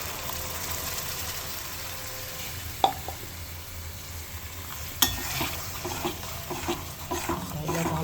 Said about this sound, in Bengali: ভালো করে এটাকে কষাবো।